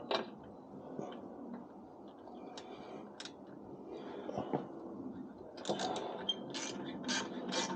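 Exhaust clamp on a 2021–2022 KTM 1290 Super Adventure Akrapovic dB killer being loosened, faint close metallic clicks and ratcheting taps over quiet background noise, busier toward the end.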